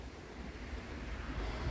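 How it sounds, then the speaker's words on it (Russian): Strong wind gusting through a garden at a dacha in Germany, a steady broadband rush with low rumbling buffeting against the microphone, no voices. "сами посмотрите, какой ветер"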